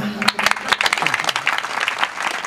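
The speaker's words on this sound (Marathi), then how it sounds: "टाळी वाजवा" Audience at a kirtan clapping in a burst of applause, many hands in uneven overlapping claps, close and lively, with a voice calling out over the start.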